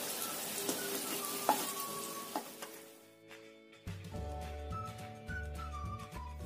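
Eggplant and tofu frying in oil give a crackling sizzle for about three seconds. The sizzle then drops away behind clear tonal sounds.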